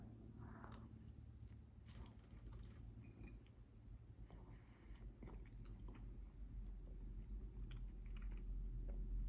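Quiet, close chewing of a strawberry-filled donut, soft squishy bites and mouth sounds repeating irregularly over a faint low hum, with no talking.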